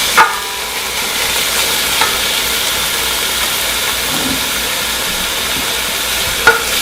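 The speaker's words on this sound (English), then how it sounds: "Now we're going to cook this until the onions are pretty well cooked." Onions and garlic cooking in a pot for chicken tortilla soup, a steady broad sizzle held at an even level throughout, close, with a couple of faint utensil taps near the start and end.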